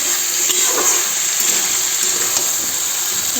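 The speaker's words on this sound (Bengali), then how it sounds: "সবজিটা দিয়ে নুন হলুদ মশলা দিয়ে আদা বাটা আর একটুখানি লঙ্কা বাটা কাঁচা লঙ্কা বাটা দিয়ে ভালো করে কষে নিচ্ছি" Vegetables stir-fried in a pan with salt, turmeric, spices, ginger paste and green chilli paste hiss steadily, with a few soft scrapes of stirring and no voices.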